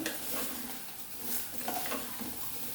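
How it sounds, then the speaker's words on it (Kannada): Chopped drumsticks tumble into a pan of frying onions, giving a soft sizzle with stirring scrapes and a few light clinks of utensil against the pan, fairly quiet throughout with no voices. "ಈರುಳ್ಳಿ ಚೆನ್ನಾಗಿ ಫ್ರೈ ಆಗಿದೆ ಈಗ ಹೆಚ್ಚಿದ ನುಗ್ಗೆಕಾಯಿ ಹಾಕ್ತಾ ಇದ್ದೀನಿ"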